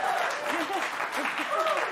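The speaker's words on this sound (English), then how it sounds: "Applause for farting." A studio audience applauds after a fart joke at a comedy show. The clapping is steady and close, with a few voices whooping over it, for a brief burst.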